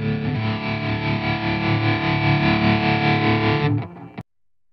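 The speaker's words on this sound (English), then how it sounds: "A couple of different distortion effects on" Heavily distorted electric guitar run through a Guitarix software effects setup, one sustained, dense, loud chord ringing for about four seconds before it cuts off abruptly, with no talking over it.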